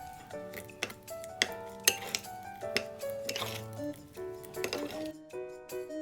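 Spoon clinking against a bowl as soy sauce and sugar are stirred together for a Korean budae jjigae sauce, a run of close, sharp ceramic taps with quieter scraping between them, no voices.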